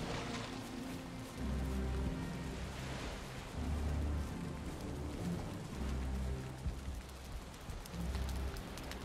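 Steady rain falls in a continuous broadband hiss, with low thumping bursts recurring every couple of seconds through it and no voices present.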